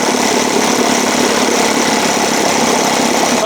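A restored Evinrude 7.5 outboard motor runs loud and close, with a steady buzzing, knocking idle that keeps a fast even rhythm throughout and has no voices over it.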